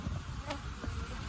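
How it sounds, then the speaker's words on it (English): Honey bees buzzing around hive frames during a beekeeping inspection, a soft, continuous hum with a few brief knocks and rustles, fairly quiet and close. "I'm gonna shake all the bees down"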